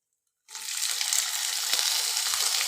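Food hits hot oil in a pan with a sudden hiss that settles into a steady, close sizzle, with no talking.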